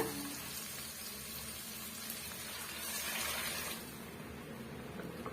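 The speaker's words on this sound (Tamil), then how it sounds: "தேவையான அளவுக்கு நம்ம தண்ணி சேர்த்துக்கிறோம்" A soft stream of water pours into a pan of gram flour mixture, swelling briefly to a gentle gush before easing off, quiet and close.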